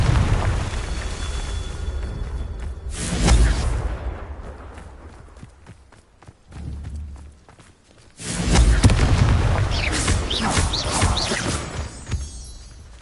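Confringo blasting spell explosions in Hogwarts Legacy: loud booming bursts with rumbling tails, two big blasts separated by quieter crackling and thuds.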